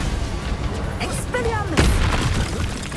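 The Incendio fire spell is cast in Hogwarts Legacy during a duel, producing one sudden deep boom partway through, then a roaring flare-up, mixed with game sound effects.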